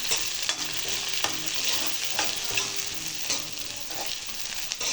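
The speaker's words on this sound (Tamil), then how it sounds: "நல்லா வதங்கட்ட பச்சை மிளகா, வெங்காயம்." Green chillies and onions fry in a pan with a close, steady sizzle, broken by repeated scraping clinks as they are stirred at a loose, irregular rhythm.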